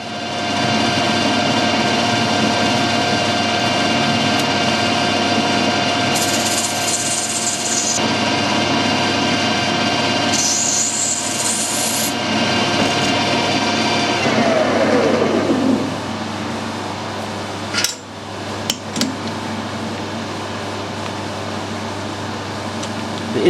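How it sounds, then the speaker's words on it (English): A workshop lathe tidying up fusible plugs and taking off the excess lead: a loud, steady motor drone with bursts of brighter cutting noise, then the tone drops away as the machine winds down. "I'm just going to give them a quick tidy up in the lathe and take the excess lead off"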